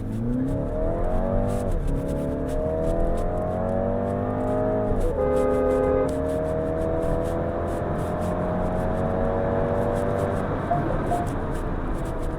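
A MINI Countryman John Cooper Works engine revs against a soft launch limiter, steady rising harmonics that drop and then climb again as the car pulls away, loud and close from inside the cabin.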